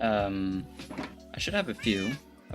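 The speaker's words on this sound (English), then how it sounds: "that's my cat." A pet cat meows a few times close by, short tonal cries mixed in with someone talking over them.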